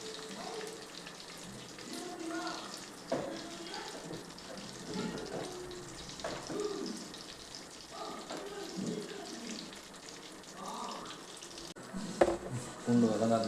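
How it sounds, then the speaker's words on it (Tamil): Garlic sizzles in a pan for a fish curry, a soft steady crackle with occasional stirring scrapes, heard under someone talking. "பூண்டு நல்லா வதங்கிட்டுருக்கு"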